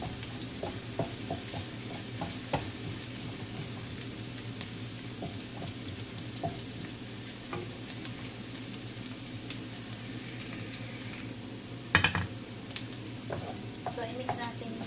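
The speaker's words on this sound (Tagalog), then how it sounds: "So, i-mix natin yung ginger. I-mix natin yung garlic. So, i-mix natin yung onion." Ginger, garlic and onion stir-fried in a pan for a seafood dish, giving a low steady sizzle with intermittent scrapes and taps of the utensil and one louder clatter near the end, close and fairly quiet.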